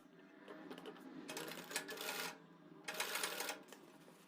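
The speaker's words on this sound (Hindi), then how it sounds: "छोटे छोटे पीस में आप सिलाई लगा सकते हैं" Sewing machine stitching suit fabric to a sleeve, running in two sustained bursts of whirring with a short pause between, fairly close and steady, with no talking.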